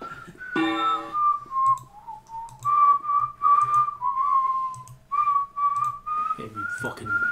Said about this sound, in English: whistling the French national anthem